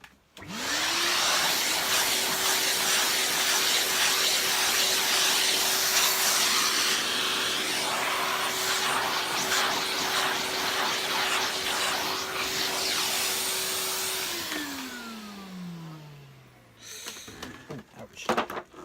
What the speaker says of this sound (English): I'll just vacuum this mess up.